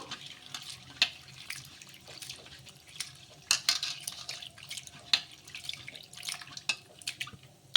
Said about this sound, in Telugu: కప్పు అటుకులను అయితే ఫస్ట్ ముందుగా అయితే కడిగి పెట్టేసుకోవాలి